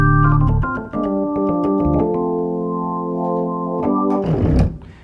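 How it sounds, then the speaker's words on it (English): An electric organ voice on a Casio keyboard, with sustained chords after a few quick notes, ending in a brief flourish, played alone at close range. "The organ would sound something like this."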